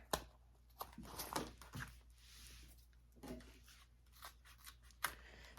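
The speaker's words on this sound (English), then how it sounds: "I'm going to go ahead and trim my zipper down here." Scissors trim a bag zipper during tote sewing, giving several short snipping cuts at close range, quiet and spread out with soft handling noises between them.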